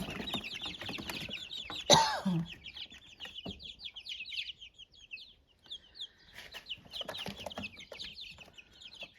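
Barred Rock chickens in a coop cluck and chirp in a busy, continuous chorus close by, with one sharp louder squawk near the start.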